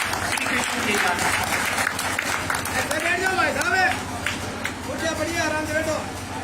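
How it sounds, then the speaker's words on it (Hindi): A crowd applauds at a BJP election campaign gathering in Ramgarh Shekhawati, welcoming a guest; steady clapping fills the whole stretch, with a voice speaking over it and some murmuring in the background. "आपसे निवेदन करूंगा कि तालियां बजाकर इनका स्वागत करें।"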